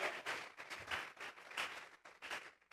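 A church congregation applauds, a faint, uneven patter of many hands clapping heard alone and at a distance.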